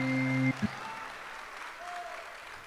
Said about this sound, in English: give yourselves a rousing round of applause